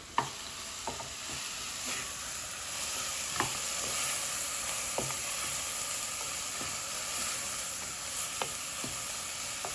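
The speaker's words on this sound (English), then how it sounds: "I'm going to give that a stir." Onions cooking with cinnamon sizzle steadily in a pan while a spoon stirs through them, soft scrapes and taps recurring every second or so over the continuous frying hiss.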